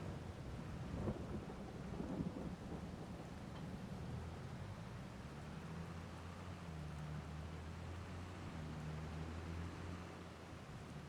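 Steady rain with rolling thunder in the farming video game Farming Simulator 22, a low rumble swelling early and lingering under a constant hiss of rainfall, no voices.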